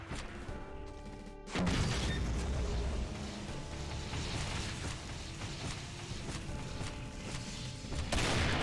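In the Doom Demonsteele mod, a loud chaotic battle bursts in with crashes, explosions and rapid impacts from Revenant rockets, dense and continuous after a brief quieter musical opening.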